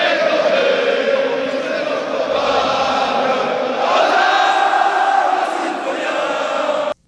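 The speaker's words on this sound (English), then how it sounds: "Not to mention the crowd chants." Large arena crowd at a WWE wrestling show chants in unison, a dense sustained roar of voices that swells and holds steady before cutting off abruptly.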